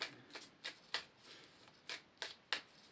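A deck of metaphor cards is shuffled in a quiet room, giving about eight soft, crisp riffling bursts at an uneven pace, faint and close with no talking.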